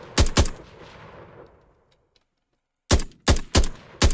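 Projectile gunshots fire in a third-person shooter video game: two quick sharp blasts, a decaying tail into silence, then four more punchy shots in an uneven rapid sequence, loud and alone.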